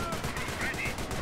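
Rapid explosive bursts of artillery and gunfire from a Company of Heroes 1 match between Panzer Elite and British forces, including incendiary mortar fire, crackle continuously and densely throughout.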